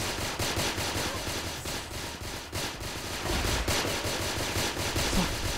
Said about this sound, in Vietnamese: Em cứ bắn vào được nhiều điểm vãi chưởng.